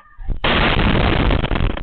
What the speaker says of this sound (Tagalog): Sa lakas ng nakabibinging pagsabog, napatakbo ang mga residente ng barangay Kabatangan, pati mga hayop, nagulat.